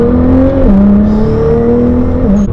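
Nissan R35 GTR tuned to 800 bhp on race fuel, engine held at high revs with a strong steady whine that steps down and climbs again, loud and close, no voices.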